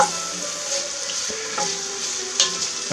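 Onions sweating in a pan for a peasant soup, with a steady soft sizzle and light stirring noises running throughout, close up.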